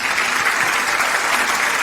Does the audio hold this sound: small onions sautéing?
no